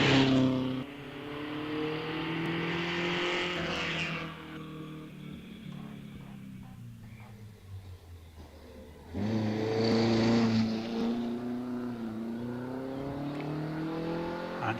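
A 500cc racing car, part of the 500 Owners Association, climbs Wiscombe Park hillclimb, its engine revving loud and near, fading away uphill, then roaring up strongly again with gear changes.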